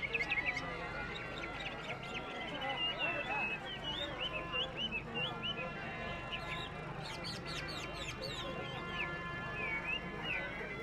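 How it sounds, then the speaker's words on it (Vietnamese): A songbird at a highland market in Sín Chéng, northwest Vietnam, sings repeated bright chirps and whistled phrases over a busy background murmur, with people talking nearby throughout. "ôi con kia hót ác chưa"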